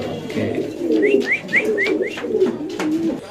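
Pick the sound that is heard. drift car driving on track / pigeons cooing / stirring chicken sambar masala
pigeons cooing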